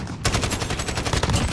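Rapid automatic gunfire from an enemy weapon in Call of Duty Modern Warfare, a dense, loud burst of shots that starts abruptly and keeps hammering steadily to the end.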